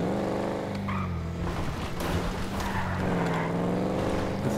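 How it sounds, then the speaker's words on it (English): A car engine in GTA 5 Online roars steadily throughout, a continuous droning rev with rising and falling pitch and a brief tire-like squeal, loud and constant with no talk. "What's that engine though?"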